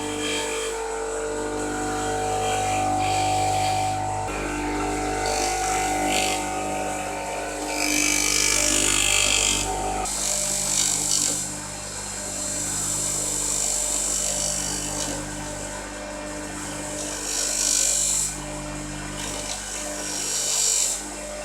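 A lathe turns down a wobbly wooden impeller for a cyclone dust extractor, a loud continuous motor drone with a cutting hiss that swells and fades in repeated passes.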